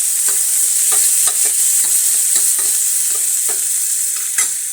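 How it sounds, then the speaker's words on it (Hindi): Onions frying in a pan, a steady bright sizzle with repeated scraping stirs of a spoon, close and continuous without any talk. "अब इसमें डाल देंगे प्याज"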